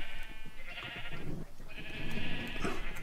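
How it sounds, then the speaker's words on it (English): Sheep in the Minecraft video game bleat repeatedly and close by, several overlapping calls in quick succession over a steady background with no talking. "I got a bunch of sheep here, including this guy here who wants to go with me"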